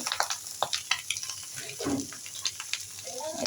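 Snake gourd frying in a pan in a home kitchen, a soft sizzle with frequent stirring clicks and scrapes of a utensil against the pan, fairly close and moderately quiet.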